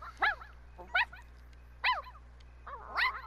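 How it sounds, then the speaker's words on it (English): Several short, high puppy yips and barks from a video game's newborn puppies scattered over a few seconds, with a steady low hum underneath. "Oh, these puppies are just adorable."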